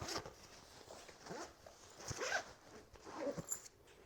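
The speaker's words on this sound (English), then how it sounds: "So this garment compartment actually does zip up." A zipper on the garment compartment of a travel backpack is pulled closed in a few quick, close scratchy runs, quiet and with no talking.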